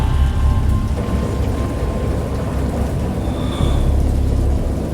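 A loud, dense thunderstorm with heavy rain roaring continuously, deep thunder rumbling underneath and swelling again near the end, with no voices.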